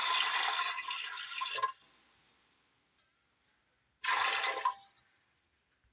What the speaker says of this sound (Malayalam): കടല വേവുന്നതിന് ആവശ്യമായിട്ടുള്ള വെള്ളം ഒഴിച്ചു കൊടുക്കാം.